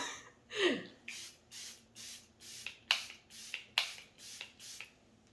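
Makeup setting spray misted onto a face in a rapid series of about ten short close spritzes, each a soft hissing puff in a steady rhythm, with no talk.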